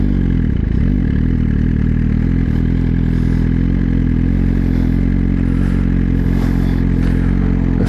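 A 2024 Suzuki GSXR1000 motorcycle with a LeoVince exhaust revving at idle, loud and close, the engine rumbling steadily with several short blips rising and falling.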